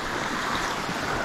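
A waterfall at Hemlock Falls or Upper Moccasin Creek makes a steady, loud, broadband rush with no breaks, heard up close and alone.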